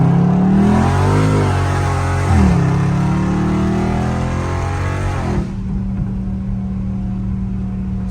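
A loud Dodge Scat Pack revs and accelerates hard, its engine note climbing and dipping through a gear change before backing off. A steady lower rumble then carries on, heard close from inside the car with no speech.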